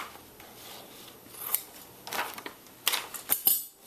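Scissors trim away paper-pieced quilt fabric and the foundation paper, giving several close, crisp snips and rustles that grow louder toward the end.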